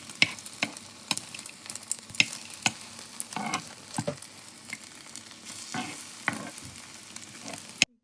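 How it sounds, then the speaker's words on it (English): Beef shami kebabs shallow frying in oil give a steady close sizzle, broken by regular sharp clicks and taps of a utensil turning and stirring them in the pan, with no talking. "Heat a little oil and shallow fry the kebabs until golden brown and crispy on both sides."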